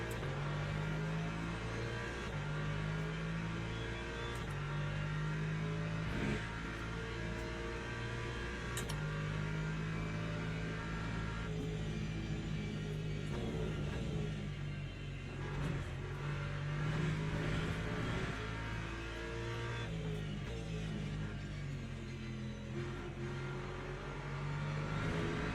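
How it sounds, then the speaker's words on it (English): Hypercar engine revving in the racing game Le Mans Ultimate, a steady loud drone with rising and falling pitch as it accelerates through gears, continuous over the whole stretch with no talking. "Ah, hypercar."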